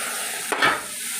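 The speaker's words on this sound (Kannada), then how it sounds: "ಇದು ಒಂಚೂರು ನಿಧಾನಕ್ಕೆ ತಿರುಗಿಸ್ಕೋಬೇಕಾಗತ್ತೆ ರೀ" Kesari bath being stirred in a pan with hot milk: a single brief scraping swirl with a faint sizzle, close and quiet against a steady background hiss.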